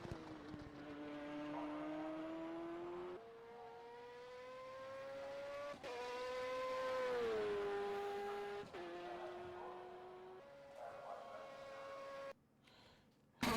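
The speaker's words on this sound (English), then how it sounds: "So the exterior sounds of this car are so much better than the than that Corvette" Race car engine heard from outside in the rFactor 2 sim, a loud buzzing tone climbing through gears with sharp shift drops and a swell as it passes, ending in a brief cut.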